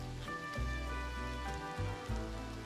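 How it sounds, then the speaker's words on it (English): Rain falls steadily on a surface, part of the ambience for a Call of Cthulhu tabletop role-play set around a lighthouse and a rough ocean. The hiss stays even, with low tones underneath and no voices. "rain that was coming down starts to get heavier, starts to form into more droplets"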